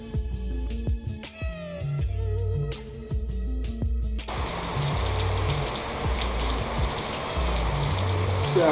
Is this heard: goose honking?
no